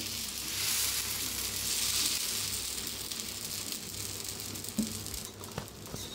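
Dosa batter sizzles steadily on a hot pan as it is spread into a round, a close, continuous frying hiss with a few small taps near the end.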